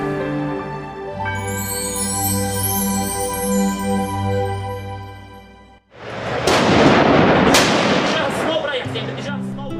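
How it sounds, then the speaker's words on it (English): Gunfire from the Syrian civil war, heavy booming and rumbling blasts that burst in loudly midway and roll on, following a stretch of sustained music. "At the sound of gunfire, everyone looks fearful and apprehensive."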